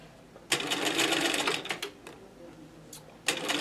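A sewing machine stitches a ruffle onto a table runner in quick rattling bursts, starting and stopping several times, close and clear, with a soft voice speaking briefly between runs.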